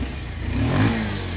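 A 2024 Bajaj Pulsar 150 motorcycle engine running at close range, a steady low idling rumble that swells slightly as if lightly revved before settling back.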